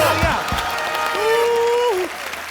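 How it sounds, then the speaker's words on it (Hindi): Studio audience applause at a television comedy talk show, a steady wash of clapping running beneath a voice and gliding tonal sounds, loud and close throughout before easing slightly at the end. "इनके लिए जोरदार तालियां"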